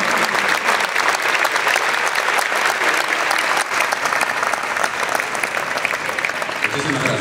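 Theatre audience applauds the cast and crew with continuous, loud, dense clapping that holds steady from start to finish.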